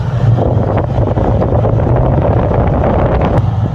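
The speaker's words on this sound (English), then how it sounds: "I'll put the camera at the exhaust so you can hear this." A steady, rumbling low engine exhaust from a Ford LTD with a fault drones continuously up close, loud and even, with some wind-like buffeting over the microphone.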